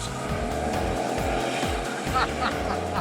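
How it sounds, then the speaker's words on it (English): Car doing a tire burnout on pavement, tires squealing in repeated falling screeches over a loud revving engine, close and continuous. "if you're doing a tire burnout, i.e. screeching your tires on the pavement"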